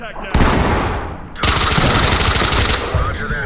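Gunfire in the tactical shooter game Ready or Not comes as loud, close bursts. One sharp volley is followed by a sustained rattling stretch, with no speech.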